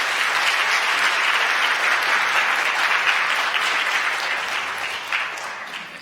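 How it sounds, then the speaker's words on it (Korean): Sustained applause from a large church congregation, dense and steady throughout, tapering slightly toward the end. "여러분들 박수 부탁드립니다"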